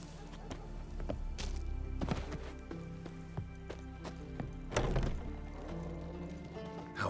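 The horse Roach runs in The Witcher 3, hooves clopping in a steady galloping rhythm over ambient game sound, moderately close, with a few sharper thuds and no talking.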